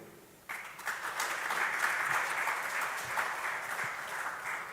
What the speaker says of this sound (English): Yes, please keep clapping until he gets here.